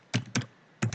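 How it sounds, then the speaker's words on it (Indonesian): Keys tapped on a computer keyboard while someone types a quiz question, three quick paired clacks with short pauses between them, close and crisp against a quiet room. "untuk soal kita bisa mengetik langsung di sini"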